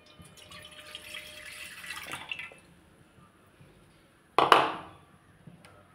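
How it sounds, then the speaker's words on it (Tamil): Second coconut milk pours from a container into a kadai set on the stove, a soft trickle first, then a brief louder splash near the end, with quiet pauses around it. "கடாயில் அடுப்பில் வச்சுட்டு செகண்ட் பாலை நமக்கு இதில் விட்டுறலாம்."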